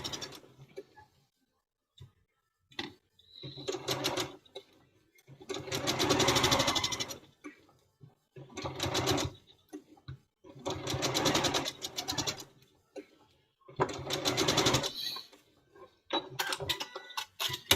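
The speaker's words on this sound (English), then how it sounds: "now what I'm going to do is I'm going to go ahead and start sewing them on" Sewing machine stitching quilt block fabric pieces together, running in several loud bursts of rapid mechanical whirring separated by short pauses and faint handling clicks.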